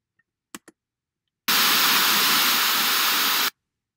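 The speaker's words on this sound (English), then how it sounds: "White noise." Synthesized white noise, a loud, flat, full-band hiss lasting about two seconds that starts and stops abruptly, preceded by a few faint clicks.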